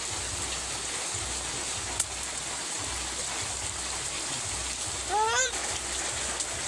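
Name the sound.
water being poured into chicken posto curry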